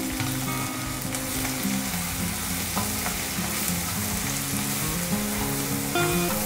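Dried prawns and tender tamarind leaves sizzle and fry in a pan while being stirred, a constant crackling hiss with scraping stir sounds, close and steady.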